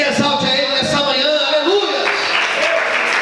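A church congregation applauds during an Easter service, steady dense clapping from many hands that fills the room, with a preacher's voice speaking over it in the first half.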